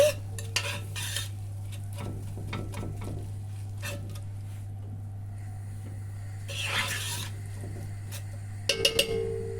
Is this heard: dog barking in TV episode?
no